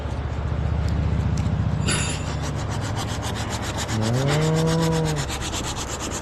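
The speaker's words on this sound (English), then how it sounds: "Still sanding." Steady back-and-forth sanding strokes on plastic ATV body parts rasp loudly and rhythmically throughout, close by, with a brief whining tone rising partway through.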